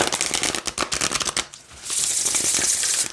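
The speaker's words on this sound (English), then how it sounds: "I don't have an issue with shuffling this, even with the nails" Oracle cards from a shaman-themed deck shuffled by hand with long nails, a run of quick riffling flicks, a brief pause, then a sustained, bright shuffling swish close to the listener.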